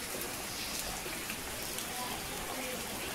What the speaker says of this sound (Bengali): দেখো বাইরে কোরকম বৃষ্টি হচ্ছে